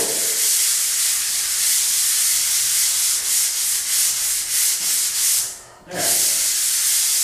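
A hand paddle sander scrapes across a wall surface in a continuous, close, rasping rub, briefly pausing near the end before resuming.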